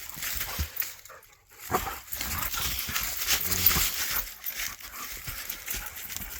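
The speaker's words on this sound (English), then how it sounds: "This is what you get when you bring two crazy dogs into the woods." Two lively dogs romp and scuffle through leaf litter in the Catskills woods, their irregular rustling, pattering footfalls and occasional yips rising and falling across the whole stretch, fairly close and unaccompanied by talk.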